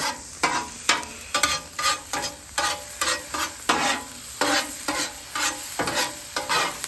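Vegetables frying and being stirred on a hot Blackstone griddle, a spatula scraping and tapping in a fairly regular rhythm over a continuous sizzle, close and loud.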